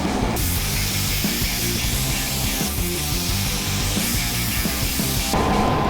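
A spray gun lays banana yellow paint onto a Jeep with a loud, steady, close hiss that runs almost the whole time and breaks off briefly near the end, with no voices.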